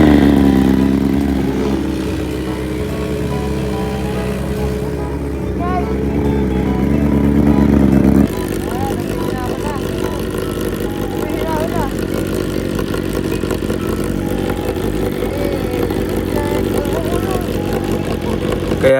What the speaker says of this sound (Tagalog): Tara, cold start!